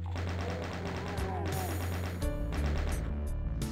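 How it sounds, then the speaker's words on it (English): Rockets fire in the video game Doom, on a level played at Ultra-Violence, as dense overlapping blasts and explosions that run the whole stretch over a steady low game soundtrack. "I'm firing rockets."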